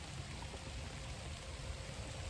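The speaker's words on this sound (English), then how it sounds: "Right now there's rain noise that's actually turning into snow" Steady outdoor rain, changing over to snow, makes a dense, even hiss and patter that holds at a constant level throughout, with no voices.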